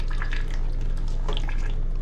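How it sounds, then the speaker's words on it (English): Water leaking from an LG Multi V indoor air-conditioning unit in a ceiling, heard as a steady wet splashing and dripping over a low constant hum, close and fairly loud throughout. "Oh, it's leaking everywhere, man."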